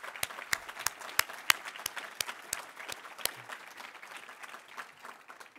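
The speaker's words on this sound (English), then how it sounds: "I want to give him a hand of applause." Audience applause at a medical lectureship, sparse and fairly quiet with distinct individual claps rising and then thinning out over a few seconds, no talking.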